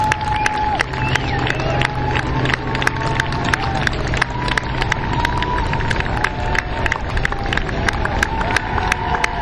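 A crowd claps and cheers at an outdoor event, dense sustained applause with scattered sharp claps throughout, a faint tone and some commotion mixed in.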